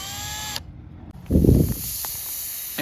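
Air escapes with a sharp hiss from a brand-new tire after a screw is forced into it. The hiss is short and close, followed by a brief low thud and quieter handling noise.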